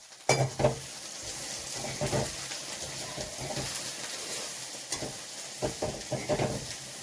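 Mustard seeds frying in a pan crackle and sizzle while being stirred, with scattered utensil clinks and scraping bursts, close-up and fairly quiet, with no talking.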